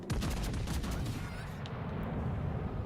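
Naval guns fire in World of Warships: Legends, with a rapid cluster of sharp booming shots up front, then a rumbling tail that fades into background battle noise.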